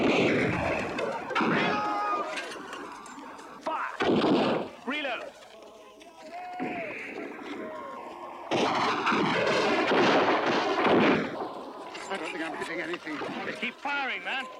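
Rifle volleys from a Zulu war drama, repeated heavy bursts of massed gunfire between shouted commands and voices, loud and close.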